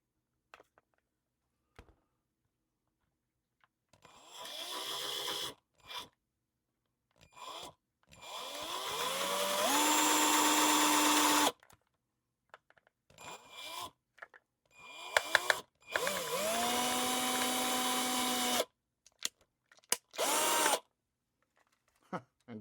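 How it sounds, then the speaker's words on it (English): A small power drill bores into a model USS Reliant starship nacelle, whirring in several separate bursts of a few seconds each with quiet gaps between them. Brief talk and handling noises fall between the runs. "taking the drill, and I'm just going to kind of work back and forth a little bit here."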